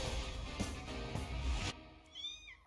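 A cat meows in the animated film League of Super Pets. A short, rising and falling meow comes near the end, after a loud stretch of busy music and action sound.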